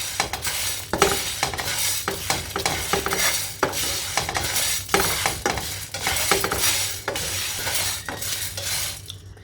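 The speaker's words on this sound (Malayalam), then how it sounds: "ഇനി നമുക്ക് കറിവേപ്പിലയും ഉണക്കമുളകും ഇട്ട് ഇളക്കാം." Curry leaves and dried red chillies being stirred with roasted urad dal in a pan: a soft frying sizzle broken by repeated scraping strokes of a spoon against the metal, close and without talk.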